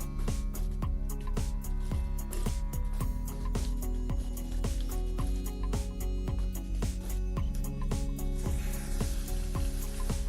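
Bread pakoda deep frying in hot oil, a steady dense sizzle and crackle running throughout at close range with no talking.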